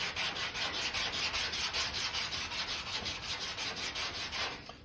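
Sanding block with 180 grit paper rubbed steadily over the lead seam area of a 1968 car's quarter panel, a continuous close rasping hiss in even back-and-forth strokes with no voices.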